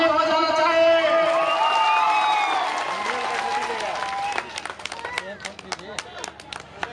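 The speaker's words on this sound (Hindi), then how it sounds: "एक बार जोर से ताली हो जाना चाहिए" A crowd at a political rally breaks into applause after a male announcer's amplified speech, the claps gathering into a brisk, scattered burst that continues to the end.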